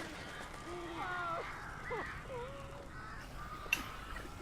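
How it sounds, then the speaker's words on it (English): A flock of crows caws in the video game Alan Wake, several harsh calls in quick succession at moderate distance over a low ambient rumble, with a voice talking faintly underneath. "Ух ты, да, вы посмотрите, сколько ворон."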